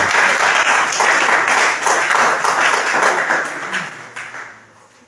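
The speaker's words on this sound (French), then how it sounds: "On peut encore applaudir pour le docteur Atamara." Applause at an academic philosophy café gathering, loud dense clapping from the audience for a guest doctor, sustained and then tapering off toward the end.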